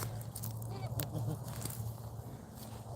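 A pet goose honks several times in quick, uneven bursts, moderately close over low background noise.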